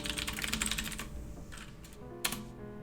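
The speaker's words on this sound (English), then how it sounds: "Well, I could just type it in, right?" Rapid clicking keystrokes on a computer keyboard, close and dense for the first second, then a few sparser taps and one sharper key press.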